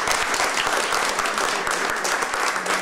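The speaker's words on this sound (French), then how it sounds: "je vous demande de les applaudir très fort" Dense, steady audience applause at a cultural exhibition event, many hands clapping together at a constant loud level for the whole stretch.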